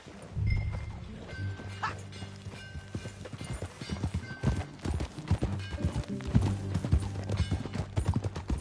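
Rapid clip-clop of horse hooves at a gallop in Red Dead Redemption 2, loud and close, with a busy rhythmic pounding over a low background.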